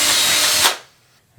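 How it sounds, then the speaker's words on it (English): A power drill boring a hole in a bathroom wall for a mirror bracket, a loud close whine that stops abruptly and fades to near silence. "So let's go ahead and drill these out."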